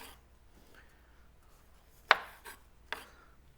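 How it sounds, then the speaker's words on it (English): A knife cuts grape tomatoes in half on a cutting board for pasta salad, making three sharp taps spaced apart in a quiet room, the first the loudest. "We're just going to chop and dump them in our bowl."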